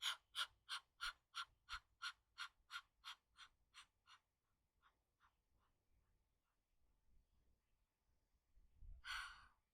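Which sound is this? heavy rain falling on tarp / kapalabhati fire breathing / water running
kapalabhati fire breathing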